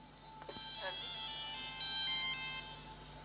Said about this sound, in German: Telefon. Der Satellitentelefon.